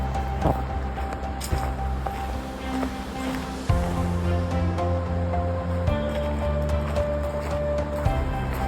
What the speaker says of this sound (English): you could hear a river down there